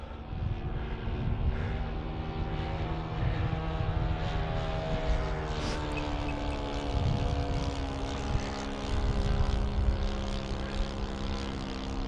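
An H-King PC6 Porter balsa radio-controlled plane in flight, its small engine droning steadily with a wavering, buzzy pitch at moderate distance, with no talk over it.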